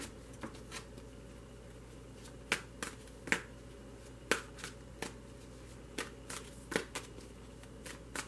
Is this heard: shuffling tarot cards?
yes